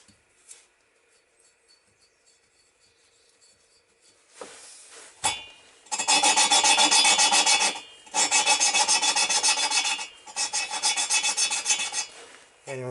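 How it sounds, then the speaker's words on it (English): Valves of a Yamaha XS650 motorcycle engine being lapped by hand, a close, loud abrasive rasping that comes in several long grinding bursts with short pauses between, after a few quieter clicks and knocks. "Right, valves are lapped in."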